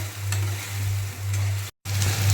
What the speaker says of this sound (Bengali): এবার মশলাটা দিয়ে আমি খুব ভালো করে কিন্তু এটা নেড়ে চেড়ে ভেজে নেব